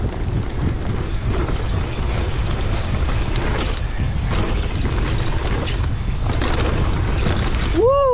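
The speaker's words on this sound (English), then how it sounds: "Super windy" Loud wind buffeting the microphone in a constant roar at a windy reef, with rushing water or surf underneath and a short whistling squeal at the end.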